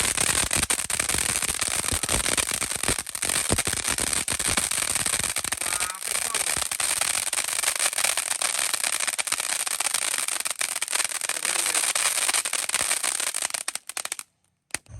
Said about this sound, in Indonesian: Lanjut kita nyalakan mercon air mancur Beauty Flower 3 sekaligus.